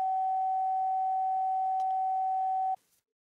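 A steady pure sine tone at a glass's resonant frequency plays alone at an even level for nearly three seconds, then cuts off abruptly into silence.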